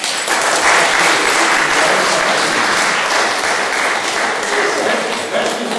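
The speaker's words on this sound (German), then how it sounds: "das ist schon Applaus vorher wert" Full, steady applause from a seated audience greeting a Dutch retirees' choir before their performance, a continuous wash of clapping lasting the whole stretch.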